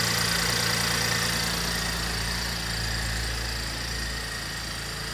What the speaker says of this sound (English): This is 6-liter V6 engine.